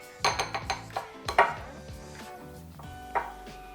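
A pastry cutter works cold butter in a bowl, giving a quick run of sharp metallic clinks and knocks against the bowl, then a pause and one more strike.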